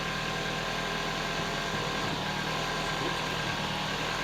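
A 2007 Ford Focus 1.6 Ti, laid up for nearly three years, idles after starting, a steady, even mechanical hum with a faint low rumble and no talking.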